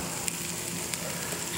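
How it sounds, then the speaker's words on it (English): Cherry tomatoes sizzle steadily in a hot pan of sauce at a crawfish restaurant kitchen, a close, continuous frying hiss with a few faint stirring ticks and no talk. "Right now, I'm just going to put some cherry tomatoes in there."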